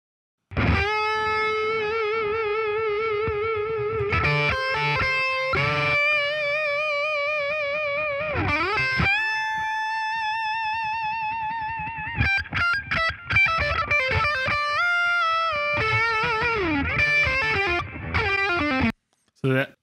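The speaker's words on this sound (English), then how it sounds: "And then we come to the solo guitar." A solo electric guitar with echo, in a one-mic recording being mixed, plays sustained bending notes and quick runs with trailing repeats, loud and alone until it cuts off near the end.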